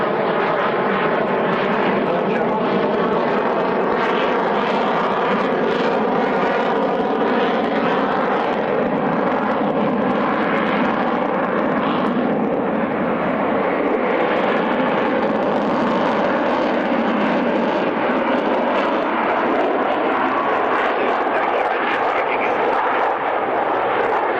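A big fly-by-wire jet capable of over 1,500 mph makes a slow, low pass at the 1998 Woodford airshow, its engines a loud, continuous roar that holds steady with a slowly shifting tone throughout.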